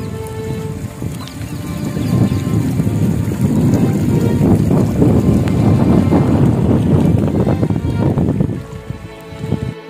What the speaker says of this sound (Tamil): பாருங்கள் எவ்வளோ காற்று அடிச்சுட்டு இருக்கு.